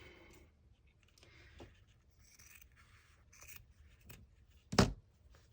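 Scissors snipping paper in a quiet room, a few faint, scattered cuts and rustles ending with one sharp, louder snip near the end.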